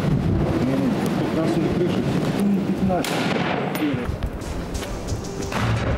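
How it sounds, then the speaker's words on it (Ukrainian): Sharp cracks of 7.62 gunfire ring out repeatedly on the front line over a constant noisy background, with a few louder bursts mid-clip. "З кожним пострілом небезпека зростає."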